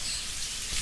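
Rain falls in a steady hiss, a close, continuous wash of fine patter with a soft low rumble beneath and no voices.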